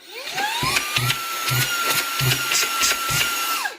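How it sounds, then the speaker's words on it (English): A Rowenta X-Touch AC9736WO handheld vacuum whines steadily up to a high pitch, with rhythmic bumps and knocks as it is moved around, then winds down. "it is very powerful, much more powerful than the old vacuum cleaner I had"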